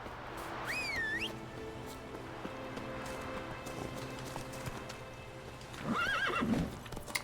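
A horse in the video game Witcher 3 lets out a shrill, rising whinny near the start and another whinny near the end, with faint hoof and ambient game sounds between them.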